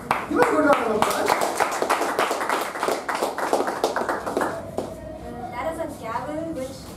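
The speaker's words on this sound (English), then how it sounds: "Give a good round of applause." A live audience at a public-speaking education session on table topics claps for several seconds, the sharp patter steady at first and then thinning out, with a voice talking over it throughout.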